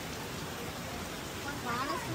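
Light rain falling at an outdoor viewpoint beside a pond, a soft steady hiss that runs through the whole stretch, fairly quiet and even with no talk over it.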